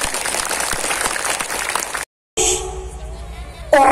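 Audience applause at a lively roasting event, a broad wash of clapping for about two seconds, then a brief gap followed by quieter room sound with a voice and some noise.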